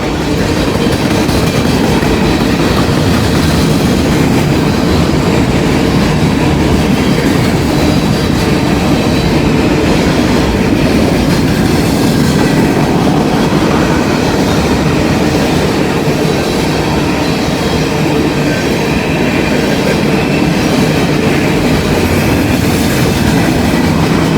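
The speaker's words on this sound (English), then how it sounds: "We heard a coal train came across the Ohio River." An empty coal train rolls past near the Ohio River, a loud, continuous rumble of wagons with rhythmic clickety-clack of wheels over rail joints and occasional faint wheel squeal, close and steady for the whole stretch.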